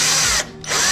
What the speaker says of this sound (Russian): все, шуруповерт начал прокручиваться